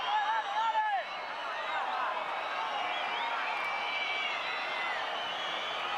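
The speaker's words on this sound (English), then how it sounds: "Centenario crowd has gone a little quiet" Quiet football stadium crowd at Estadio Centenario during a Uruguay v Australia World Cup qualifier play-off, a steady distant murmur with a few whistles and calls rising briefly at the start.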